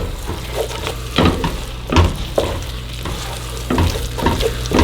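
A thick roux for seafood gumbo sizzles in a pot while a spoon scrapes and stirs it, the stirring strokes coming in regular bursts roughly every second over a steady low frying hiss, close and moderately loud.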